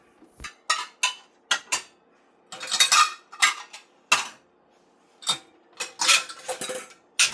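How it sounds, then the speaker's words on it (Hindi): Freshly washed metal cutlery and dishes clink and clatter as they are put away in a home kitchen, in sharp irregular bursts with brief pauses, close and fairly loud, with no talking. "हमेशा धुले हुए बर्तनों को आप पहले जगह पे रखिए"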